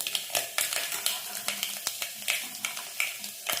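Mustard seeds and dried red chillies sizzle and crackle in hot oil, a steady frying hiss punctuated by sharp pops and spatters at an uneven rhythm, close and fairly loud, with no voices.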